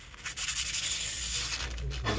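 Coarse sandpaper or emery cloth sanding an old gasket off a metal water pump cover from an IKA Continental six-cylinder engine, rapid rhythmic rasping strokes up close, continuous and fairly quiet, no talking.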